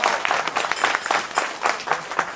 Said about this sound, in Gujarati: તાળીઓ નાખી કાઢીએ બધા